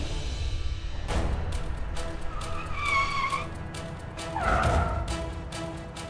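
Car traffic fills a busy road with a continuous engine wash, bursts of tire squeal, horn-like tones and sharp passing swells, loud and close with no talk.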